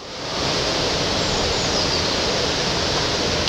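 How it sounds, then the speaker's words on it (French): A pretty waterfall in Edinburgh, heard as a steady, loud, broadband roar of falling water that swells in at the start and then holds constant, with no voices over it. "voilà que surgit sans prévenir une jolie cascade"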